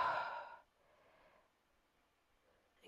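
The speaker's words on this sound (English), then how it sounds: "breathing out" A single soft exhale during a seated yoga stretch over the back of a chair, close and breathy, fading into near silence.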